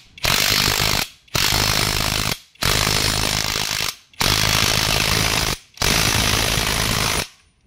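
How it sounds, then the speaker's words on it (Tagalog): A pneumatic impact wrench tightens the differential ring gear bolts on a Nissan NV350 in five loud, close hammering bursts, each about a second long, separated by brief pauses. "ginagamitan lang po namin ito ng impact wrench"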